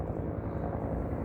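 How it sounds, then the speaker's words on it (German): A helicopter flying between mountains in the Austrian countryside, a steady, continuous rotor and engine drone heard from a distance, holding an even level throughout with no talk over it. "Hier habe ich sie ganz nah, die Hubschrauber Super. zwischen den Bergen."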